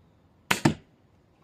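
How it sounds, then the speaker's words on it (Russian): A pistol crossbow fires an arrow: two sharp, close-set snaps, the release crack and the thud of the string slapping home, loud and near against a quiet background, then silence with a faint click at the end. "давай еще одну стрелу выстрелим"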